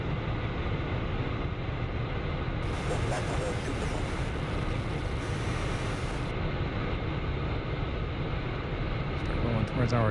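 F-15E Strike Eagle jet in the DCS flight simulator, pushing toward about 0.95 Mach, with a loud, steady engine roar filling the whole stretch and a high tone entering midway.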